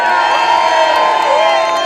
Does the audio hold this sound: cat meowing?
no